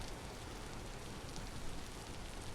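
Quiet, steady patter of rain in the Vintage Story video game, a dense hiss of drops with no other sounds.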